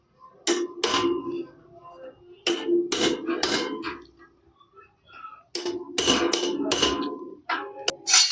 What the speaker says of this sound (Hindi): वहाँ पर ही राड लगा के मारेंगे तो बहुत आसानी से और जल्दी से स्टेटर अंदर चला जाता है